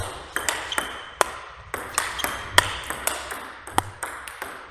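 Table tennis ball struck against a SANWEI 75 ALC blade, a series of sharp, crisp pings at a steady rally rhythm, close and clear against a quiet room.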